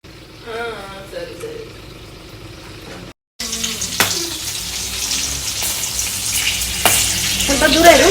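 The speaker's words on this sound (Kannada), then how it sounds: "ನಾನು ಕಾರ್ನ್ ಡೀಪ್ ಫ್ರೈಗೆ ಹಾಕಿದ್ದೀವಿ." Corn coated in gram flour and rice flour deep frying in hot oil, a steady broadband sizzle that grows louder after a brief silent cut, with faint voices talking in the background and a few sharp crackles.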